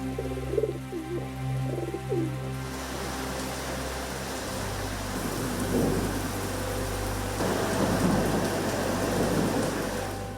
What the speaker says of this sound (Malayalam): സൂര്യപ്രകാശത്തിൽ മഴവില്ല് ചാലിച്ച് പുതുമഴ പെയ്തിറങ്ങി.